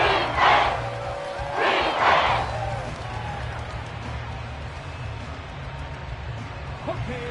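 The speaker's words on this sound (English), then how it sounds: "The Arrowhead crowd in full roar." A huge football stadium crowd roars continuously at Arrowhead Stadium, with two surging swells of cheering early on before settling into a sustained, dense roar that fills the space.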